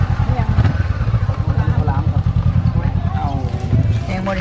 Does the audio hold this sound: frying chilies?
no